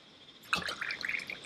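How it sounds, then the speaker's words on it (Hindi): Cold water is poured into glasses of mint, buransh and malta drinks, a short, soft trickle and splash beginning after a quiet moment and continuing in small bursts. "अब इस पे अंकल जी सभी में देखिए इतना इतना पानी मिलाना है।"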